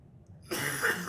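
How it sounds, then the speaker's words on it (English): A single short, sharp cough from one person, abrupt and close after near silence, during a Warhammer 40k tabletop game. "Excuse me, lots of coughing."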